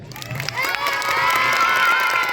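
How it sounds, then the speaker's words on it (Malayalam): A festival crowd at Kottappuram roars with cheering and high shouting, loud and sustained. It swells after a brief quieter start and holds steady. "കൈയടിച്ച്"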